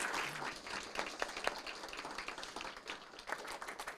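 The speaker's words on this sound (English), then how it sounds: "Please give a big round of applause for Deputy of the fourth quarter" A council chamber audience applauds a sheriff's deputy being honored as deputy of the fourth quarter, with steady, fairly faint clapping from many hands continuing throughout.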